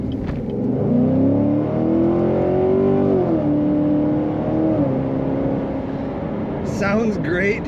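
A 2019 Chevrolet Corvette Grand Sport C7 convertible with an automatic transmission accelerates hard, its V8 engine note rising and falling through the gears with a steady, loud roar heard from inside the car.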